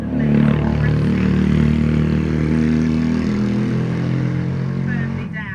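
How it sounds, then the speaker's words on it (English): Motor scooters passing by outdoors on a busy street, a steady droning engine rumble that holds loud throughout and eases slightly toward the end. "Everybody rides a scooter here, it's so noisy."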